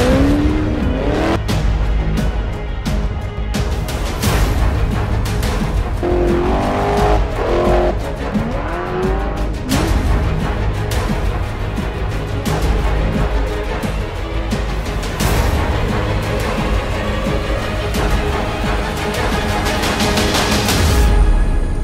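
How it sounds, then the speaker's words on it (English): Sand cars built for customers in the UAE race across desert dunes, engines roaring loud and continuous with revving surges and tire noise throughout, close and dense with no talk. "testing some of our sand cars for some customers overseas in the UAE"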